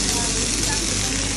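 Hokkaido atka mackerel, a dried fish, pan-frying with a steady, dense sizzle and hiss close by, with no talk.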